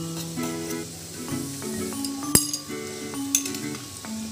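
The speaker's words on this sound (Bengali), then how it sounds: "আমি 1-2 মিনিট ধরে সবজিটা ভেজে নিয়েছি, আমি এবার চাউগুলো দিয়ে দেবো।" Vegetables and chow mein noodles are stirred in a pan for street-style egg chow mein, giving a steady run of light utensil clinks and scraping with a sharp metallic clack midway, close up with no talk.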